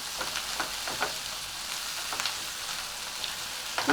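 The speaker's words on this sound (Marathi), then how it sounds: "हे एखाद भर परतून घ्यायचं आहे आपल्याला फोडणीमध्ये" Chopped ridge gourd bharit sautéing in hot oil tempering in a pan, a continuous soft sizzle broken by occasional stirring scrapes, close and steady.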